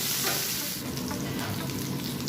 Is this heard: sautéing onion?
yes